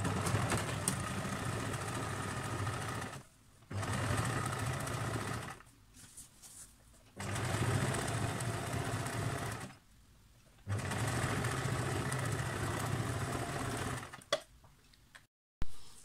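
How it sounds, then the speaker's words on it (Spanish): Sewing machine stitching fabric for a lunch bag, running in four steady bursts of a few seconds each with short pauses between, moderately near and alone with no talking. "Volvemos a pasar un pespunte por ahí."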